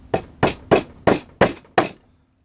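A hammer taps a small 3-penny finish nail six times in a steady, evenly spaced rhythm, each strike a sharp, close knock, then silence.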